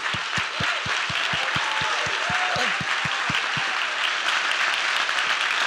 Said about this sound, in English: So if everyone could please give our presidents a round of applause.